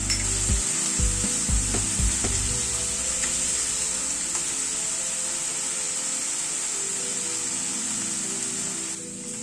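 A pan of onion, ginger, garlic and green chilli paste fries for a fish kofta curry, giving a steady, close sizzle. A few low knocks and scrapes of stirring come through in the first seconds, with no talking.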